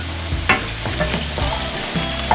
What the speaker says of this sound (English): Now at this point, I put in my chopped ribs.